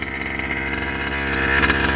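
A Rovan 5B large-scale RC car's gas engine running on a new carburetor and clutch, a steady buzzing two-stroke drone close by that rises slightly in pitch and loudness as the throttle opens.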